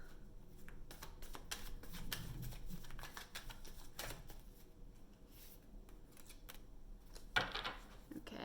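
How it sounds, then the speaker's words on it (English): Tarot cards are shuffled and pulled: quiet, close riffling and sliding with a series of soft card snaps, and one sharper slap near the end. "I'm going to pull some more cards here."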